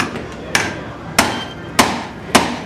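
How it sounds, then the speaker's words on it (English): A hammer strikes metal hookahs, a Mya Saray and an Egyptian model, in a durability test: four sharp, loud, evenly spaced blows with short ringing decay between them, and no voices. "I wouldn't go hitting them with hammers"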